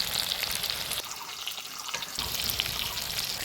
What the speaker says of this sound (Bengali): এবার ভালো করে মশলার সাথে কষিয়ে নেব।